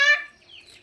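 A single close, short cluck comes from a double-body breeder hen kept on a village poultry and goat farm, followed by faint quiet calls in the background.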